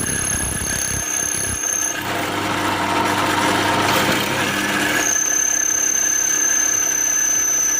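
A drill grinds steadily through two stacked steel files, with a high whine and harsh scraping that swells in the middle, alongside high tonal squeals.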